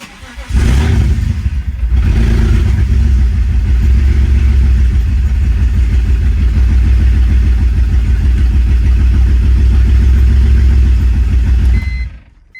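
A BMW E46 coupe engine with no idle control valve and a broken disc valve starts and runs close by, loud and throbbing, its steady idle breaking up with an uneven, misfiring stumble before it shuts off.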